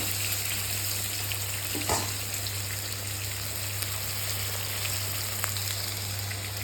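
Banana pieces fry in oil in a pan, making a steady, dense crackling sizzle like light rain that holds at an even level with an occasional faint knock.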